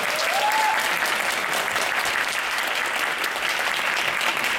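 A studio audience at a radio drama awards ceremony breaks into loud, steady applause that holds throughout with no pause. A brief voice can be heard over the clapping near the start.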